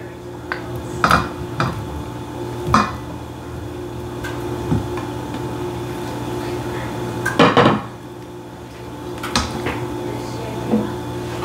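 Potatoes are stirred into a potato salad dressing in a bowl, with a utensil clinking and scraping against the dish in irregular close knocks, separated by quieter mixing and a low background hum.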